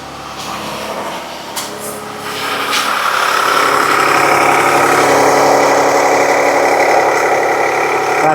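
A 2019 Jeep Cherokee engine idles with a steady, loud mechanical hum that swells after a couple of seconds, carrying a rough, knocking undertone suggestive of internal trouble.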